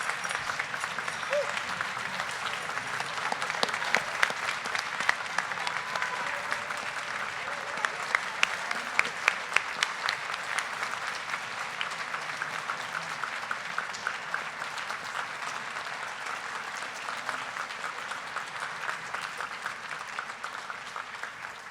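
Sustained applause fills a graduation hall for over twenty seconds, a dense crowd of clapping hands with crisp close claps on top and faint voices murmuring beneath.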